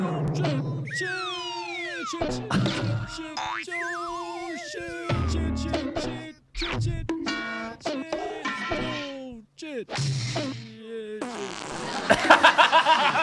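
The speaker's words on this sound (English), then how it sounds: "The fart now." Fart sound effects added in editing burst out in a rapid, varied series of squeaky, sliding and blubbery blasts, some long and some short, with voices and laughter mixed in.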